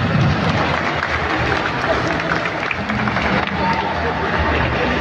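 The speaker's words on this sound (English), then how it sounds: "Let's give them all a round of applause." Crowd applause and cheering for the prize winners at an airsoft convention, a steady loud roar of clapping from a large gathering mixed with crowd noise and voices.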